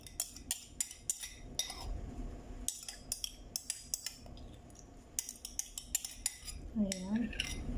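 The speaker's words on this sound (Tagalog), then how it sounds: "Tapos ihalo natin, kukuha tayo ng isa pang kutsara." A metal spoon stirs a cucumber and yogurt salad in a bowl, making quick bright clinks and taps in irregular bursts. The sound is close and fairly quiet, with a soft voiced murmur near the end.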